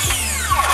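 A circular saw rips along wooden pergola posts in a garden, its high whine and grinding cut loud and close in a short burst.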